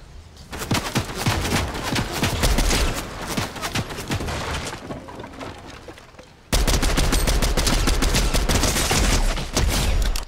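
Sustained gunfire in the Fortnite video game: dense rapid bursts of shots, loud and close, with a brief lull before an even heavier barrage.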